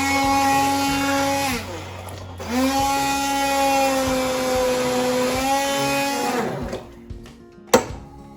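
A blender whizzes pea and mint soup smooth, a steady loud motor whine that drops briefly, restarts and runs for several seconds before cutting off with a clunk.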